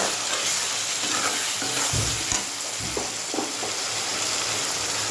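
Ginger garlic paste with ground cumin sizzles loudly in a pan, a steady bright hiss with scattered lower scraping stirs throughout, close and alone.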